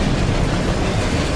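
Train rumbling past in the video game Murdered Soul Suspect, a steady dense low roar with faint clattering that stays loud and constant throughout, with no voices.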